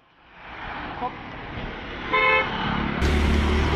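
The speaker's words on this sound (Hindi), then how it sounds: "जयपुर का सबसे ट्रैफिक वाला एरिया है ये" Busy road traffic in Jaipur: a steady roar of passing cars and motorbikes close by, with a short car horn toot and a rising engine surge near the end.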